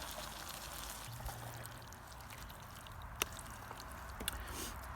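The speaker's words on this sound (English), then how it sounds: "Then you pour in your favorite chili beans right in there." Chili beans pour into a pot in a Thanksgiving kitchen in Maine, a soft continuous wet pouring and slopping with a couple of small clicks, faint and steady with no talk.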